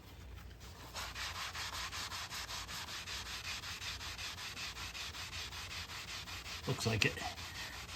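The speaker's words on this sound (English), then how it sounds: "I wonder if the magic eraser will get some of this off now." A magic eraser scrubbed back and forth over the laminate of a Tempest arcade cabinet, a quick, even, rhythmic rasp that runs close and steady, with a brief remark spoken over it.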